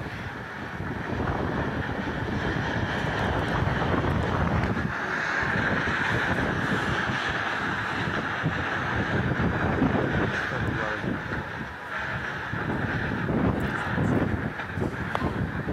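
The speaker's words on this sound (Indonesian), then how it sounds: "angin puting beliung melanda wilayah Kalideres, Jakarta Barat" Tornado-force winds with heavy rain sweeping through Kalideres, West Jakarta, recorded on a resident's handheld camera: a steady, loud roar of wind buffeting the microphone and pouring rain runs throughout, with no clear talk.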